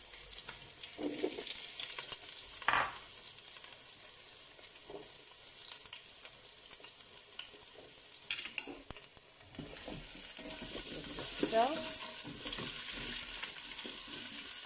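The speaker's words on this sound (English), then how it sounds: "I'm going to be dropping in the onion now, and let that fry up" Onion fries in a pan with a steady soft sizzle, broken by occasional scraping stirs and small clinks, the crackle swelling a little louder toward the end.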